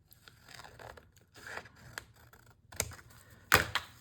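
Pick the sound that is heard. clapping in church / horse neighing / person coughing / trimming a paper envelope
trimming a paper envelope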